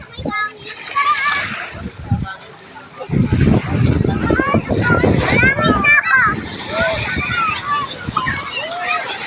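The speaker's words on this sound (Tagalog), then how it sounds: "Yan, umaalon na. Ala, umaalon na." Waves splash and wash against a shore at close range, loud and continuous with surging bursts, while several voices, including children's, talk and shout over the water.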